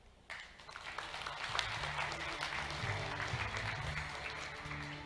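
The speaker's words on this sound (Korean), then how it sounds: "다시 한번 박수 부탁드리겠습니다." Applause from a forum audience at a Korean event on medical professionals expanding overseas breaks out suddenly after a presentation and holds as a steady, moderately loud wash of clapping with no talking.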